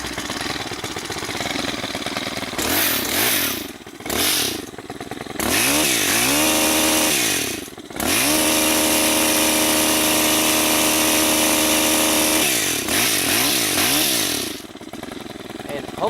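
STIHL KM 130R gas multi-tool engine fired up close by, roaring loudly, revving in repeated rising and falling surges, then holding a sustained high buzz before dropping back, with someone talking over it.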